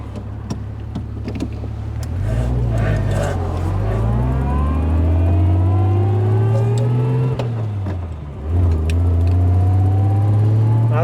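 A 1930s saloon car pulls away in a noisy first gear, its engine and gear whine rising steadily, dipping at a shift and climbing again, loud and close throughout.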